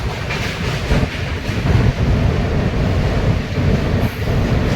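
A loud, steady rumble of the Brahmaputra Mail train crossing the Saraighat Bridge over the Brahmaputra River, with continuous rhythmic clatter of wheels on the rails and no voices.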